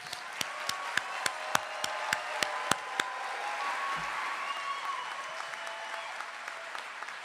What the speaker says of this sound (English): Let's give all our graduates a big round of applause.